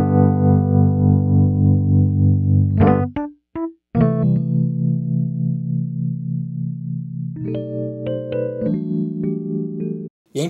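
Rhodes electric piano run through an analog mixing desk, sounding fuller and louder: sustained chords alone, interrupted by short stabs and a gap, then resuming with rising chord changes near the end.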